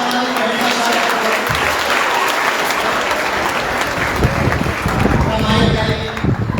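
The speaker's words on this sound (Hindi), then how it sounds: "ताली बजाओ हमारी बहना स्वागत करो।" An audience at a Hindu religious discourse gathering at a college in Fiji applauds steadily for the whole stretch, a dense, loud wash of clapping with a voice talking over it.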